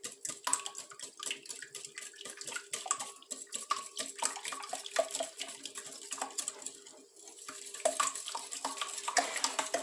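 Eggs are whisked in a bowl for a crustless taco pie, a quick run of wet, rhythmic clicks and sloshes that goes on steadily up close, with no talking.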